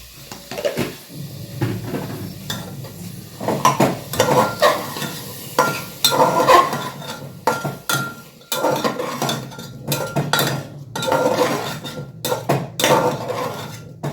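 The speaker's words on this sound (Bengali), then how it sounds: "একটু ভালো করে কষিয়ে নিতে হবে।" Raw papaya curry being stir-fried in a pan, with repeated scraping and clanking of a spatula against metal and a soft sizzle underneath in irregular bursts, close up and with no talking.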